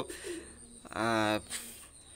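A Cobra Teddy pigeon gives a single rolling coo, fairly close and moderately loud, with faint voices and room noise around it.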